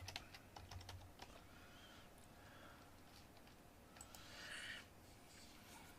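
Faint typing on a computer keyboard during a pen company's live stream, with scattered light key taps in short clusters against a quiet room background, and no talking.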